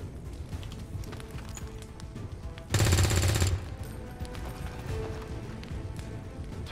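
Gunfire in the video game XCOM 2 bursts out in a loud volley of about one second midway through, set against quieter background game sound and faint distant shots.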